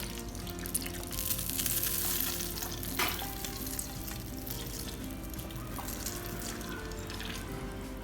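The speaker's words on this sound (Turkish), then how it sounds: "Tereyağım tamamen kızdı. Böyle köpük köpük oldu." Steady frying sizzle of butter foaming in a hot pan, crackling continuously with brief bursts of spatter, close and moderately loud throughout.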